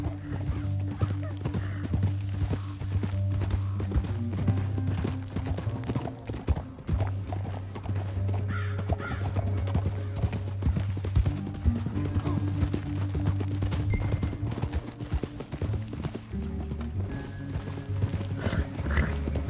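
Horse hooves clip-clop in a steady rhythm at moderate distance in the video game Red Dead Redemption 2, with a low droning hum and occasional faint snorts.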